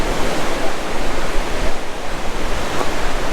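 Ocean surf washing in at Silver Strand Beach on a warm day, a steady, loud broadband roar of small breaking waves close by, with no voices over it.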